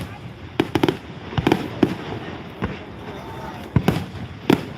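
Fireworks at the Milan, Michigan fair display burst in rapid, loud cracks and booms, several sharp reports in irregular clusters over a steady crowd murmur and voices.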